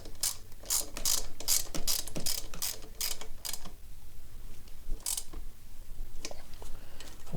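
A hand ratchet tightens a bolt on a Kawasaki Ninja 650 motorcycle during an ignition and triple clamp install. Close, crisp bursts of rapid clicking repeat in quick strokes, with a short pause midway before more clicking resumes.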